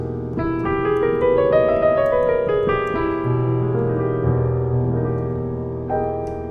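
Piano notes run up an exotic-sounding Lydian sharp 2 scale then settle into sustained ringing chords, played clearly and alone.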